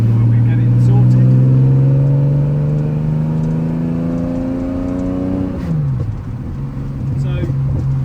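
TVR T350c with a 4.5-litre Supersport engine on the road, heard loud from inside with the windows open: a strong, rising engine note that climbs steadily, then drops sharply at a gear change and pulls again.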